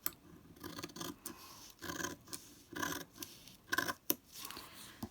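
Scissors snipping through folded layers of paper for a craft project, a series of crisp close cuts in irregular bursts over about five seconds, with no talking.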